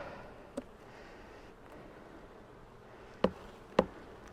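An opened honeybee colony hums with a low, steady insect buzz, calm and fairly faint, broken by a few sharp clicks or knocks.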